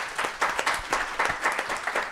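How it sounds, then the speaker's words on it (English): An audience at a parallel conference session applauds a speaker, with distinct claps standing out in an uneven rhythm, fairly close and moderately loud, and no talking. "Can we give a round of applause for Ines,"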